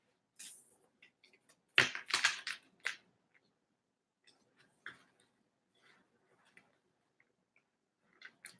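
Tarot cards being shuffled by hand during a reading, heard as a few soft papery riffles and clustered flicks with quiet gaps between, close and fairly faint with no talk.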